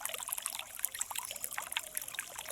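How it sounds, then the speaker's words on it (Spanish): Water trickles softly in a continuous, fine bubbling patter, faint and even throughout, with no voices. "Cuán hermoso es escuchar el sonido del agua"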